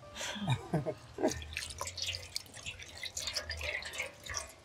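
Water poured for washing hands, with irregular splashes and drips falling close by while a voice talks in the background.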